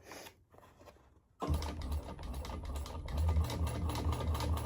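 A domestic sewing machine stitches a fabric bucket bag, starting after a quiet pause with a steady, close mechanical whir and rapid ticking rhythm that grows slightly louder toward the end.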